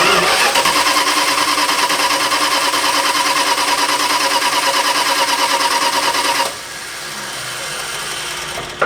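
An engine cranks over with its ignition disabled, a rapid, rhythmic churning whir held steadily for several seconds before stopping, followed by a quieter background hum.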